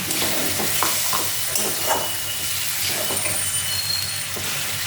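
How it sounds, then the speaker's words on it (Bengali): Egg curry gravy for a Bengali dimer dalna hits a hot pan and sizzles steadily and loudly, a dense frying hiss with faint stirring, no voices over it. "এখন এই ঝোলটা পুরো দিয়ে দিচ্ছি।"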